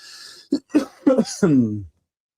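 A few short, close coughs in quick succession, the last one longer and voiced, trailing off into silence.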